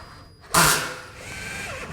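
A 13mm wafer head screw is driven into a metal stud by a power drill, one loud burst of whirring that starts suddenly and then eases into a lower, steady hum.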